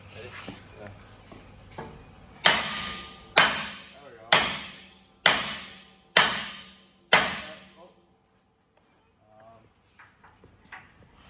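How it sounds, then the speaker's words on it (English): Six sharp, loud hammer strikes on a 59-year-old tractor's unit land at an even, steady rhythm, each ringing briefly, with quieter knocks and rustling before and after. "Hammer the unit down."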